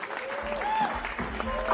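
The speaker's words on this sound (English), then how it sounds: "One round of applause for Demola Williams" An audience at an African film awards press conference claps in a brief burst, mixed with a person speaking and some tonal sounds over the top.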